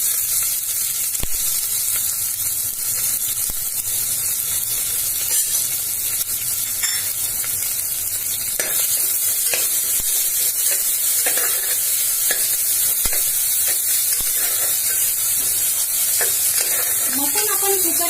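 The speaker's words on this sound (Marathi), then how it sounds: "जिरे मोहरी तडतडली चांगली." Cumin, mustard seeds and finely chopped onion sizzling in hot oil for a traditional mutton curry, a continuous close, loud frying hiss with occasional crackles and stirring scrapes throughout, without talk.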